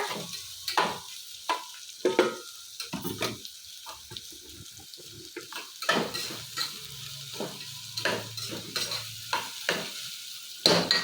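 Sprouted fenugreek fries in an oil tempering, a fairly quiet sizzle under repeated stirring scrapes and clatter of a utensil against the pan, with a few watery splashes between strokes.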